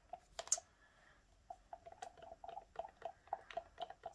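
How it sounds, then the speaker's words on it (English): A stir stick works through a homemade acrylic house paint mixture as water is added, giving soft, faint, irregular clicking and squishing strokes close by. "Give it a good stir."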